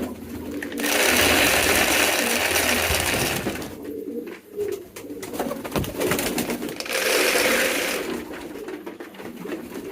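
Hungry pigeons coo while they are fed, with soft repeated coos and a steady rustle and flutter of wings that swells loudly, dips briefly, then rises again.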